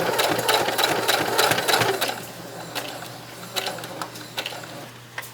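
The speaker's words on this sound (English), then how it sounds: "you do want to back stitch there" A sewing machine stitches a bulky apron, running in a fast rattling burst at first, then slowing into sparse, spaced stitches over a steady motor hum.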